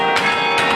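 Carillon bells in Cleveland struck by lever-driven clappers ring out in two bright, resonant strikes close together, sustained overtones hanging between them.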